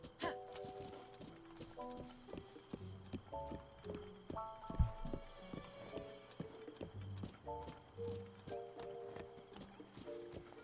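A horse's hooves clip-clop in Zelda: Breath of the Wild, a steady run of hoofbeats with accompanying game music tones, fairly faint overall.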